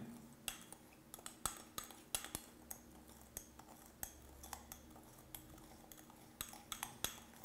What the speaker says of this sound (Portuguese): Mexe bem até eles se misturarem muito bem.